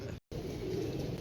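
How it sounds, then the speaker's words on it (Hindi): Pigeons cooing inside a loft, a steady soft murmur of low coos filling the space, briefly cut by a moment of silence near the start. "माशाल्लाह ये देखें कमाल कबूतर"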